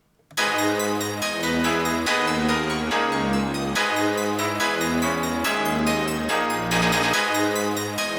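A bright electronic drill/trap beat synth melody with steady, repeating note patterns and a pulsing bass line underneath, loud and continuous with no voices.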